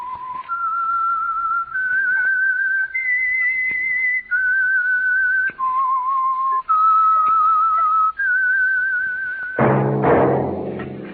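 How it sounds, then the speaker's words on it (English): A clear, solo whistled melody of sustained, bending notes, the radio show The Whistler's signature tune, rising and falling in a slow, eerie tune, followed by a burst of music. "That whistle is your signal, The Whistler."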